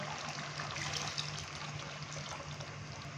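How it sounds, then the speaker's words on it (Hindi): Water poured from a cup into a pan of roasted chicken curry gravy, a steady broadband splashing trickle that runs continuously and fairly close, with a faint hum underneath and no talking. "1 कप पानी डालूंगा।"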